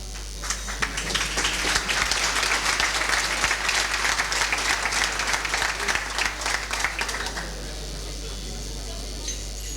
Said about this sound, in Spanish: tras estos efusivos aplausos que se suceden